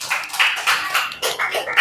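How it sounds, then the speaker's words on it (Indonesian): Students in a classroom clap for the second group after its presentation, a short burst of irregular, fairly close claps in small uneven clusters. "tepuk tangan buat kelompok 2."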